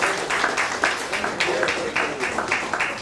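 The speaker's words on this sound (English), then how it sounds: "Please give him a big round of applause." An audience applauds through a formal memento presentation, the clapping dense and steady across the whole stretch, with small swells and no voices breaking through.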